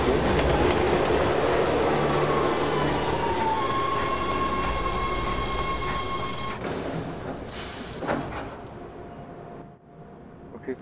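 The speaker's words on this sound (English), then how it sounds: "Look out! Train!" A train rushes past in Resident Evil 6, a loud continuous roar of wheels with a long metallic squeal, then the noise drops away abruptly and fades toward near silence.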